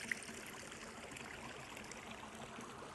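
A river on farm property in central Portugal flows steadily nearby, a continuous broad rush of water with no voices over it.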